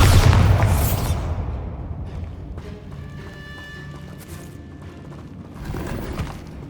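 A loud Bombarda spell explosion from the Hogwarts Legacy video game booms at the start and decays into rumbling debris, followed by faint magical chimes and a smaller burst near the end.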